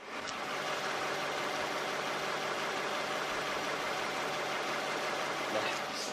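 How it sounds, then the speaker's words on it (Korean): A Lexus ES350 V6 engine idles at a steady, even level, a smooth continuous hum with no talking. "바로 엔진 소리 한번 들려드릴게요"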